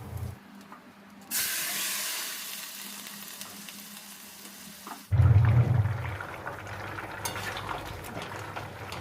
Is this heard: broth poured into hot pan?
yes